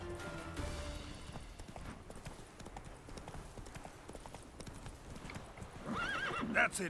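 Roach, the horse in The Witcher 3, gallops with quick steady hoofbeats, then gives a loud neigh at the end.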